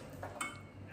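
A lid is set down on a pot of simmering beef caldereta, giving one short metallic clink midway through a quiet kitchen background.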